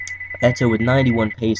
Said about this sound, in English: Sorry if you can hear that, that's my phone.